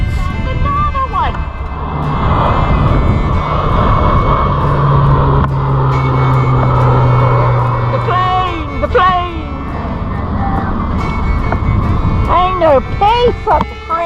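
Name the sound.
airplane flying overhead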